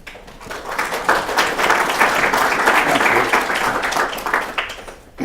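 Audience applause welcoming a speaker at a Victoria-Korea business forum, a dense, sustained burst of clapping from a crowd that swells, holds for several seconds and tapers off.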